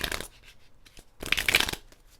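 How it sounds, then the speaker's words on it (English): A deck of tarot cards is shuffled in two quick, crisp riffling bursts separated by a short pause, close up and with no voices. "I always shuffle the decks after I'm done with the reading"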